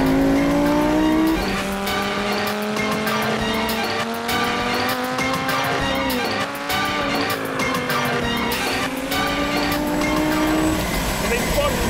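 A Lamborghini Gallardo V10 engine revving hard in second gear, rising and falling roaring tones close and loud, sustained under a voice.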